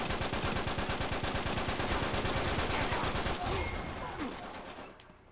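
Rapid bursts of automatic gunfire and explosions from an Uncharted 3 multiplayer match, dense and loud for several seconds before fading away.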